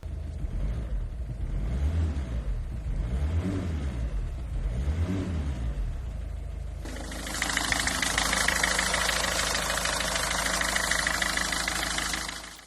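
A Peugeot 206's 1.4 HDI diesel engine idles with a steady low rumble and a few slow revs, then a loud broadband hiss takes over for the second half.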